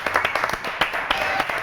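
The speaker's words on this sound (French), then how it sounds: "alors applaudissements pour mes invités préférés," Studio audience on a French television show clapping for arriving guests: a thin, uneven patter of claps with a few sharper hits, fairly quiet and brief.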